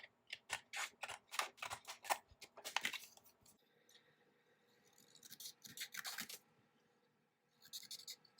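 Scissors snip through a paper planner sticker in quick rhythmic cuts, close and crisp, with pauses and paper rustling between two later bursts of snipping.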